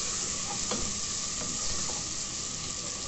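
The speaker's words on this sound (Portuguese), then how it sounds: "Vou deixar dar uma douradinha aqui rapidinho" Diced calabresa sausage and garlic browning in a pan, a constant sizzle with occasional spoon stirs and light scrapes against the pan, heard up close with no talking.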